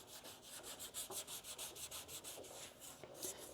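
Hand sanding of body filler with 320 grit sandpaper: quick, even, rhythmic rubbing strokes, close and steady, with no talk.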